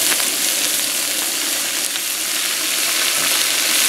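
Mixed vegetable medley fries in a preheated pan, giving a steady, loud, close sizzle that holds evenly throughout with no pauses.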